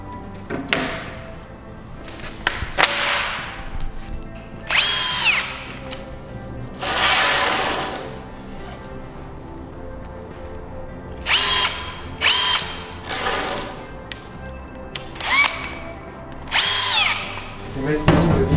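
A power screwdriver drives screws into a steel roof sheet in repeated whirring bursts of a second or two, separated by short pauses and knocks.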